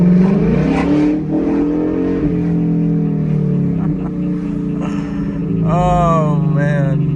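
A 2018 Ford Mustang GT with its mufflers removed rumbles loudly and steadily up close, its deep exhaust tone rising in a couple of short revs near the end.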